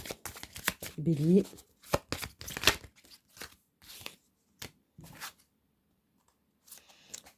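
Lenormand oracle cards shuffled and drawn, with brief papery flicks and snaps in quick bursts close by, mixed in with someone speaking.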